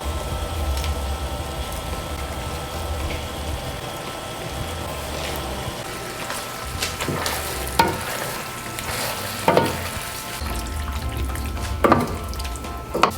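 Pasta stirred into a creamy salmon sauce in a pan over a medium-low flame: a continuous gentle sizzle with clinks and scrapes of stirring that grow busier toward the end.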